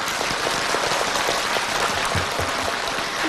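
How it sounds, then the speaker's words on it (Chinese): Dense, steady applause from a crowd at a talk-show style gathering, a continuous wash of clapping that holds for the whole stretch with no voices over it. "对，鼓掌。"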